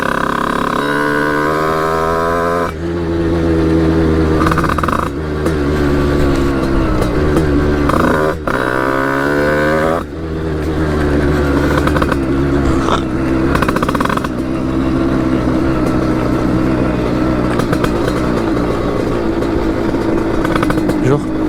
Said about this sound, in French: je fais du tout terrain avec une moto